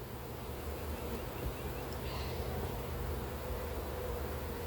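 Honey bees swarm around an open, heavily populated hive, making a dense, continuous buzz that stays close and steady throughout, with no talking.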